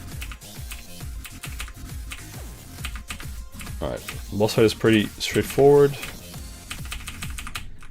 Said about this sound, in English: I am typing with left hand.